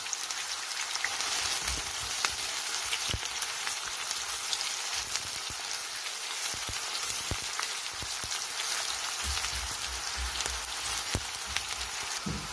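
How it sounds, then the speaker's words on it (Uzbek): Onions fry in vegetable oil in a pan, giving a continuous rain-like crackling sizzle with sharp pops scattered across the whole stretch, fairly close and unaccompanied by speech. "Piyozimizni ham sop qovurib olamiz."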